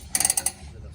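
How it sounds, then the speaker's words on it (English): An ironworker's ratchet from Klein Tools clicks about six times in a quick, close burst, then goes quiet. "It's a ironworker's ratchet"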